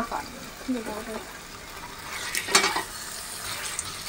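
Sausages are stirred and fry with a soft sizzle in a pan, with metal scraping and a louder clatter partway through; a voice speaks briefly near the start.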